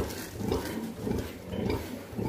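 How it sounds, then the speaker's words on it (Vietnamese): A litter of piglets suckling from a sow on a farm, grunting and squealing steadily in a dense, overlapping chorus close to the microphone for the whole stretch. "đàn heo mình nó đang bú nha"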